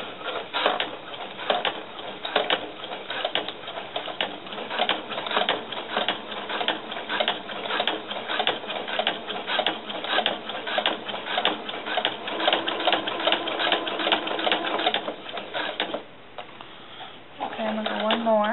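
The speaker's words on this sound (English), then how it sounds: "actually helping it a little bit by pushing the fabric through the walking foot" A sewing machine with a walking foot stitches fabric for doll snakeskin boots, a rapid close mechanical chatter running continuously, pausing briefly near the end before a voice speaks.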